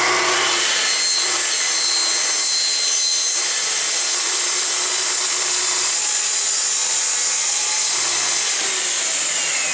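A table saw rips through wood at a workshop station while trapezoid pieces are trimmed, giving a loud, steady, hissing roar that runs unbroken for the whole stretch with no talk.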